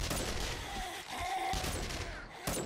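Gunfire in the survival game 7 Days to Die, a few sharp, loud bursting shots spread across a noisy, dense scene, with a faint voice underneath.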